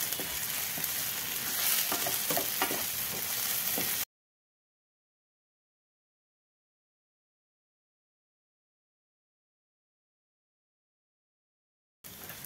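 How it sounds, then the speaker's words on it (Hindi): Ginger garlic paste frying in oil gives a loud, close sizzle with stirring scrapes for about four seconds, then silence, then the sizzle returns briefly at the end. "अदरक लहसुन का पेस्ट ऐड करने के बाद इन्हें भी मैं एक मिनट तक का भूनूंगी"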